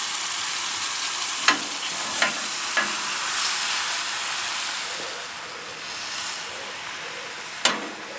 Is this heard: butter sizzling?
yes